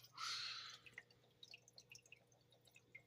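Green water squeezed from a baster into small containers to feed young animals: a short burst of pouring liquid followed by quiet, scattered drips at close range.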